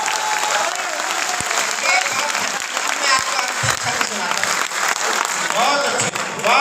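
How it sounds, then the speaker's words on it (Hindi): A large audience applauds at a Hindi poetry gathering (kavi sammelan) at a university, dense continuous clapping with scattered cheers and voices mixed in. "एक बार पूरा सदन हाथ उठाकर तालियां बजाए।"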